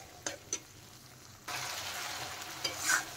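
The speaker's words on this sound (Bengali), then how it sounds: "দিয়ে এখন ভালোভাবে কষিয়ে নিতে হবে মশলা" Spice paste sautés in oil for a duck egg curry, a soft sizzle with a couple of stirring scrapes, growing louder and denser partway through, close and without talk.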